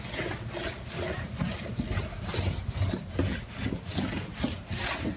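Wet clay bar rubbed across unclayed car paint on a Honda Civic hatchback, a faint gritty scraping that repeats in quick back-and-forth strokes, close and steady.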